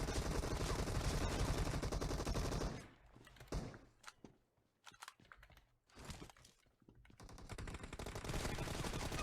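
Bursts of automatic gunfire rattle loudly in PUBG Mobile, a dense stream of shots giving way to sparse, sharp single cracks and short volleys before heavy firing resumes.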